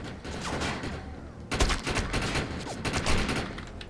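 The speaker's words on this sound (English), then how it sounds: "in any shooting game, do you always hold down the trigger? Nah, you burst fire." Burst-fire gunshots in the shooter video game Defiance, dense overlapping reports and rapid firing mixed with explosions and game effects, loud and continuous with no clear talk.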